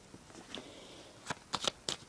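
A deck of tarot cards is shuffled by hand, giving soft papery riffles and several crisp clicking snaps of the cards, close and quiet with no talking over them.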